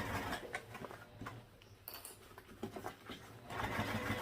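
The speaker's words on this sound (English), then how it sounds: "So I'll sew all the way down." A sewing machine stitches a tote bag seam with quiet, rapid mechanical ticking and a faint motor whir, pausing briefly mid-run before resuming, low in level and close by.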